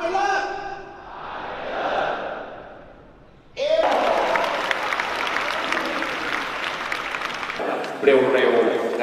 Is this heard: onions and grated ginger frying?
no